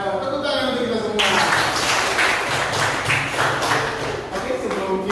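An audience at a school training session bursts into applause after a countdown, a dense burst of many hands clapping close by that holds steady for several seconds, with voices calling out over it.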